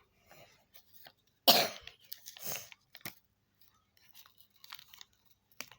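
A single sharp, loud cough from a person with a bad fever and cough rings out, followed by a second softer cough, with quiet rustling and small clicks around them.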